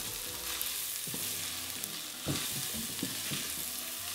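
Shredded carrots cook with olive oil in a pan, giving a continuous soft sizzle with scattered stirring knocks and scrapes throughout, no voices present.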